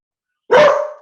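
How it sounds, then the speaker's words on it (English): A single loud, close dog bark erupts after a moment of silence in a home during an online call, sharp at onset and trailing off quickly. "Sorry, I think my dog also agrees."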